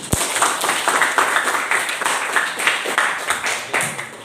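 A group of teachers or students clap together in a school classroom or workshop, brisk overlapping hand claps forming a loud, fairly continuous burst that carries through to the end.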